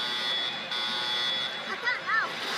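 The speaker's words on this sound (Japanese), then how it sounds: "警報" A pachislot machine sounds its alarm, a steady high electronic buzzer tone held over background noise, followed by short warbling electronic chirps near the end.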